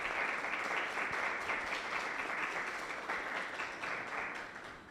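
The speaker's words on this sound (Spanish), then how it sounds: "quiero que les demos una cordial bienvenida con un aplauso y en agradecimiento" An audience at a human rights and citizenship discussion event applauds to welcome the guests, with dense, sustained clapping that stays fairly even and then eases off slightly toward the end.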